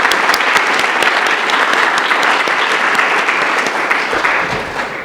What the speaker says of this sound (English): if you could join me in a round of applause in greeting our transfer panelists